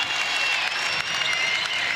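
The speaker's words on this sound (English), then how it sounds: "Crowd enjoying it here on this snowy Saturday evening in Huntington" Steady, dense applause rises from a basketball crowd at a Marshall versus Georgia Southern game in Huntington on a snowy Saturday evening. It is loud and continuous throughout the short stretch.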